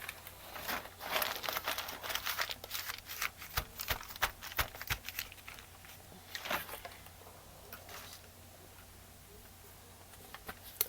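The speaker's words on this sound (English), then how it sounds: "And we're going to get that crumpled paper again." Paper crumpled in the hand during a painting session gives a run of dense crackling and crinkling bursts for most of the stretch, close up and fairly quiet, fading toward the end with no voice.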